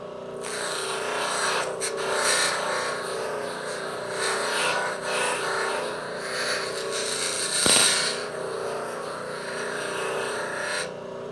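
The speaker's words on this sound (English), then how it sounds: "Other materials can be deburred with this wheel as well." A deburring wheel grinds steadily along the rough bandsaw-cut edge of a metal part in a machine shop, giving a continuous close hiss and rasp with slight surges.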